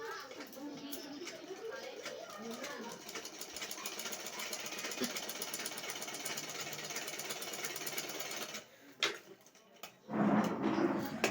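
A sewing machine runs steadily while stitching a blouse shoulder seam, its rapid mechanical whir continuing for several seconds before pausing, with a voice talking over and after it.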